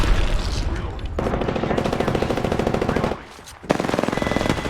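Automatic weapon fire in the battle-royale video game Apex Legends: rapid, loud bursts of gunshots with a short pause before the firing resumes.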